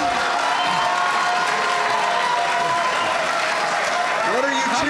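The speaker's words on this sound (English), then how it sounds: "What are you cheering for?" Live audience at a debate on American exceptionalism cheering and applauding, a dense, loud, steady wash of clapping and crowd noise filling the whole stretch with no let-up.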